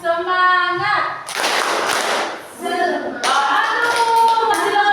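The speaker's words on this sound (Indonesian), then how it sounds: "Tepuk semangat." A school class in an Indonesian eighth-grade lesson doing a rhythmic spirit clap, bursts of loud group clapping in patterns, alternating with sung or chanted voices between them.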